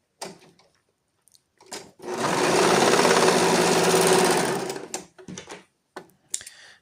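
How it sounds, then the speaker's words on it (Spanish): An overlock sewing machine runs a seam along one end of a fabric piece for trousers, a fast steady whirring stitch burst of about three seconds, with brief clicks and handling noises before and after. "lo vamos a cerrar con la over"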